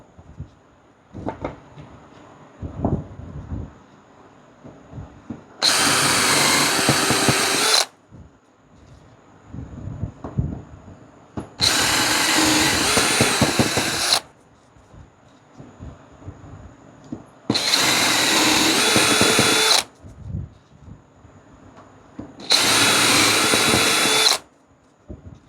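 Power drill boring holes in a Kia Ray trunk during a car audio installation, four sustained bursts of a few seconds each with quiet handling noise and knocks between them, close and loud.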